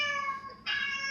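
Cat meowing, played in place of Will Smith's roar: a single short, close, tonal meow that dips briefly and then swells into a brighter cry.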